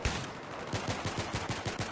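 Rapid automatic gunfire from a Battlefield 3 Rush match, a steady rattling burst of shots repeating at a quick even rhythm for the whole stretch, loud and close.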